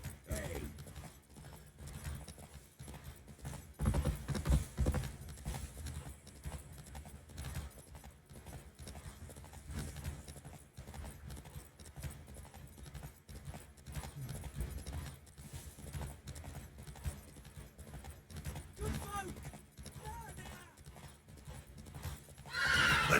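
Horse hooves clip-clop steadily while a horse whinnies in Witcher 3, a game soundtrack of galloping and riding with scattered neighs and jingling tack, moderately loud throughout.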